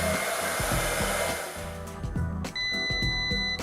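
An automatic hair curler with negative ions whirs steadily up close, then cuts off and gives a repeated high beeping alert after it catches too much hair.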